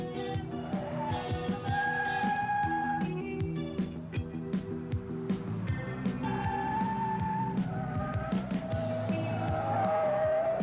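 A car from the 1988 Bob Bondurant School of High Performance Driving works through a precision course in reverse, with the engine revving and changing pitch and tires squealing repeatedly over about ten seconds.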